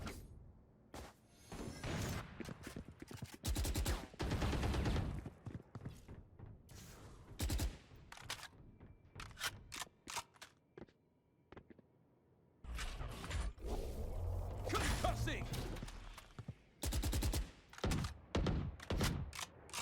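Gunfire in a competitive team video game match, with bursts of shots and thuds coming in clusters, separated by brief quieter gaps.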